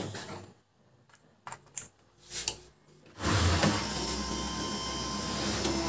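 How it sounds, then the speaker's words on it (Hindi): A Canon imageClass MF4820d laser printer with error E202-0002 is switched on: a few faint clicks and knocks, then a loud, steady mechanical whirr as it starts running, close by. "इसको करूँगा ऑन प्रिंटर को"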